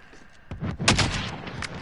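Gunfire in a first-person shooter video game: a few sharp shots and bursts starting midway through, fairly close and loud against a faint background, with no talking.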